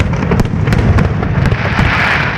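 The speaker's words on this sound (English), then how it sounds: "These fireworks are like proper men like." Loud fireworks at the Thames Festival 2010 seen from Blackfriars Bridge, a dense barrage of crackling bursts and sharp pops over a continuous rumbling roar.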